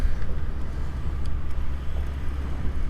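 A Tamiya TC-01 radio-controlled car on its first run, driving on brand-new tyres, gives a loud, steady low rumble with rough, fluctuating texture and nearby wind noise, with no talking.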